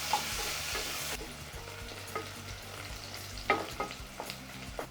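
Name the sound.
onions sautéing in a pan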